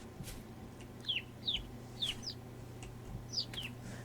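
Chicken calls from a hen and chick in the video game Vintage Story: several short, high chirps and clucks in an uneven series, fairly faint over a steady low game hum.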